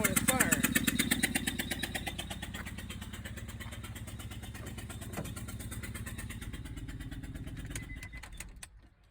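A motorcycle engine cranks over repeatedly during a spark plug firing test, a rapid rhythmic chugging that stays fairly steady, then fades and stops near the end.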